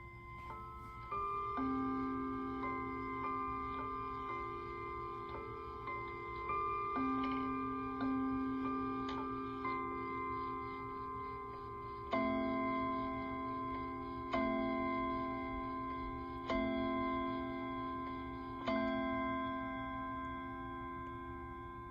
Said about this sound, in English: So with luck, we'll hear the very pleasant sounding mantle clock.